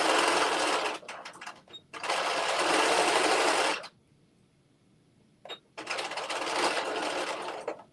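A home sewing machine stitches the front of a Butterick 6989 play suit in three loud, sustained runs separated by brief pauses and a stretch of near silence.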